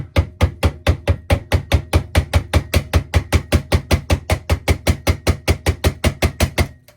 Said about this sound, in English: now I use a rubber or a plastic mallet